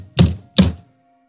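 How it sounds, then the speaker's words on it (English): A fist bangs twice on a desk, each one a loud, close, heavy thunk. The two blows come about 0.4 seconds apart and die away quickly into quiet. "Hillary banged on the desk and raged."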